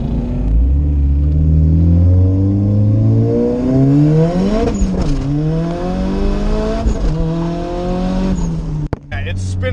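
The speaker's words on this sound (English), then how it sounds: "it's spinning all 4 tires in second gear" A turbocharged Honda CR-V accelerates hard in second gear with all four tires spinning, engine pitch sweeping upward in a loud, close roar that dips at a shift and climbs again, ending in a sharp clunk.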